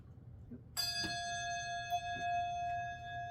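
A single bronze handbell is struck and rings out clearly, its bright tone sustaining and slowly fading over a soft background of room noise.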